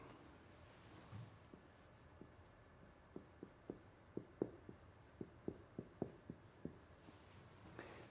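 A lecturer writes on a board during a class on semiotics, with a series of short, evenly spaced taps and strokes. They come in a steady run in the middle and stay faint over quiet room tone.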